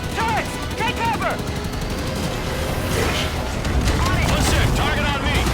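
In Halo 5: Guardians, turret gunfire erupts as dense, booming bursts mixed with explosions in a loud battle, while voices shout over it.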